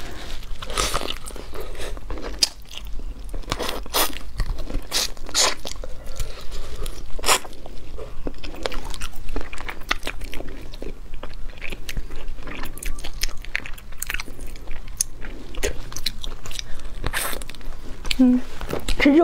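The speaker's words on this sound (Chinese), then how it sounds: "今天来吃一个这个小甲鱼，据说这玩意儿大补，" Close-up biting and chewing of soft-shell turtle meat, with repeated wet crunches and smacking sounds running steadily throughout, loud and near.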